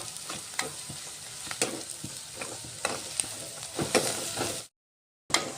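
Onion frying in a pan until browned for a vegetable gravy, a soft steady sizzle with repeated spatula stirs and taps, cutting out briefly near the end.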